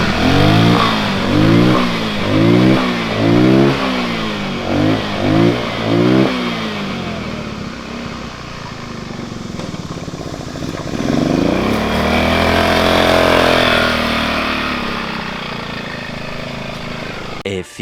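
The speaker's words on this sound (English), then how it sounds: "So I took this little cart around the yard and it was bump steering like crazy." A cheap 200cc Batman go-kart engine revs in repeated rhythmic bursts as the kart bumps around a yard, then settles into a steadier drone, loud and close throughout.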